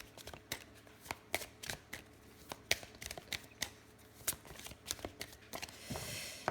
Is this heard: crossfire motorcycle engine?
no